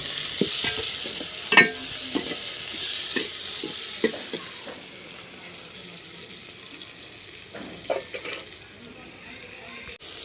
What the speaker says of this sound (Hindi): टमाटर और प्याज को अच्छी तरह से भून लेंगे।